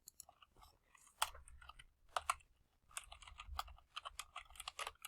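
Typing on a computer keyboard at a desk during Photoshop work, a close, fairly quiet run of irregular key clicks with a few sharper taps and no talking.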